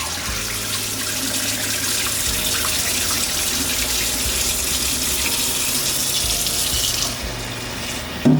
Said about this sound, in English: And for the final third rinse.